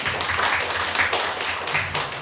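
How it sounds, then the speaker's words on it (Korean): A church congregation at a Sunday service claps together to congratulate members on their birthdays, a steady, dense wash of hand claps from many people filling the room for about two seconds. "우리 생일 맞이한 분들 우리 축하하는 마음으로 우리 함께 박수로 한번"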